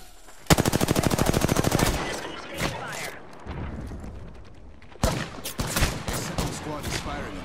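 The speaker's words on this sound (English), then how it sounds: "squad is firing on us" Automatic gunfire in Apex Legends: a loud, rapid burst of close shots lasting over a second, a few scattered shots, then a pause and another string of irregular shots and bursts.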